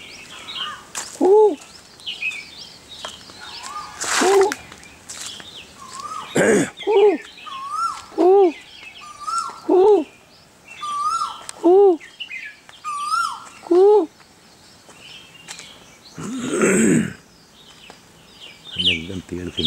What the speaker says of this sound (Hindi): कोयल बोल रही है